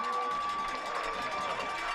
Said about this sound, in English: and that brings a little bit of a cheer